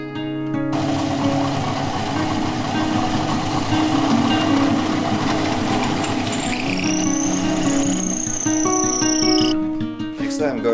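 A mini lathe turning a piece of rebar runs with a loud steady motor hum and grinding cutting noise, ending with a rising whine and a brief clatter as it stops, close and alone.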